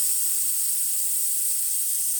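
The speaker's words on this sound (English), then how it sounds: "Now we're going to just run the steam on." Steam hisses steadily from the wand of an Olympia Cremina lever espresso machine after a service, a loud, even, continuous rush with no talk over it.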